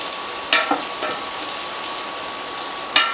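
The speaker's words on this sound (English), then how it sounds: "put that to the side until our pancetta is nice and crispy" Pancetta frying in a pan, a steady close sizzle with a few sharp stirring scrapes and clicks, no talking.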